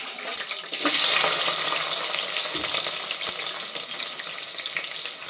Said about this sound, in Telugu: ఆవాలు చిప్పట్లు ఆడేసాయి, కలిపెట్టుకున్నా, ఎర్రగడ్డ ముక్కలు వేసుకున్నా